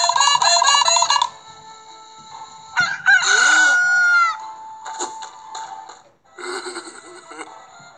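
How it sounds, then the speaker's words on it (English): A rooster crows loudly and close by, several drawn-out calls separated by short pauses, with no voices over it. "And the rooster crows, and Peter has cried."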